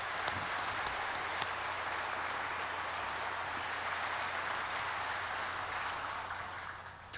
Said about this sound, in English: Please join me in giving them a big round of applause of appreciation and encouragement.